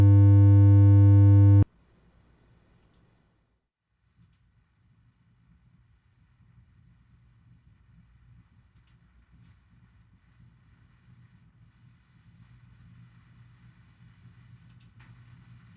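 Sine tone driven through a hard clipper, a loud buzzy low tone packed with bright harmonics that lasts under two seconds and stops sharply, followed by faint background noise.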